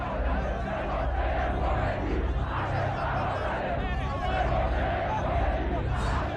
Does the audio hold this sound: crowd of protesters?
yes